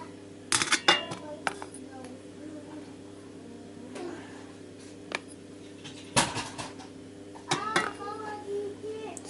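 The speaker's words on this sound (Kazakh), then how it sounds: "Мантываркаға мантыларымызды саламыз." Manti dumplings are set into a metal manti steamer pot, giving a few sharp clinks and clatters of pot tiers and lids between quieter handling sounds, with soft voices in the background.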